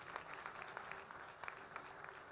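Conference crowd at a prophetic gathering in Accra, Ghana, clapping in a quick, uneven patter, faint and somewhat distant, with scattered louder claps standing out.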